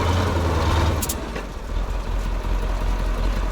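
A Kolkhida truck on Ural tyres being prepared for off-road driving, its diesel engine rumbling loudly and steadily close by with a low throbbing tone and a slight dip before settling again.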